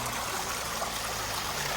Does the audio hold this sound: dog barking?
no